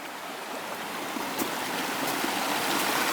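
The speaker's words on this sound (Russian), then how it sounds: "А шумит у нас здесь ручей." A small Arctic stream rushes steadily over a little rapid among rocks, a continuous close bubbling hiss of water with no voices.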